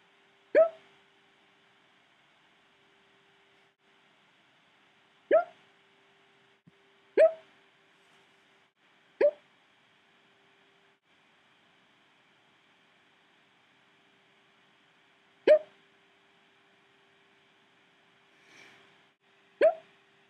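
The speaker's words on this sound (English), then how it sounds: "I have the hiccups." A person hiccups seven times at irregular intervals over about twenty seconds, each one a short, sharp gulping burst close to the microphone with near silence between.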